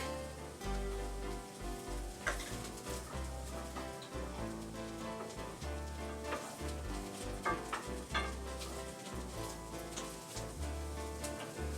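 Garlic sizzling in a pan for prosciutto lemon pasta with Brussels sprouts, a steady quiet crackle and spit of frying that continues throughout, with occasional clinks and low thumps.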